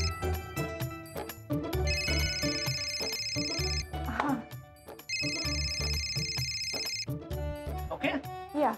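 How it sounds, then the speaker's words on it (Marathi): A telephone rings in two long electronic trilling bursts that stand out clearly over background music in a Marathi TV serial. "फोन आला"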